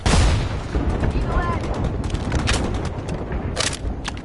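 Gunfire crackles in a battle royale video game, with repeated sharp shots and bursts over a steady rumble of battle noise, fairly loud and close throughout.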